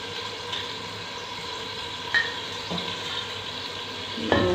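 Washed meat tossed into a hot pan for a Pakistani chicken and cauliflower dish fries with a steady sizzle, stirred with occasional scrapes and clinks of the spoon against the pan.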